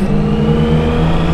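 Motorcycle engine revving as it passes close by, a steady loud mid-pitched drone with harmonic whine that holds strong through the short moment.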